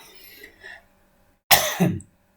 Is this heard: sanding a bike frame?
no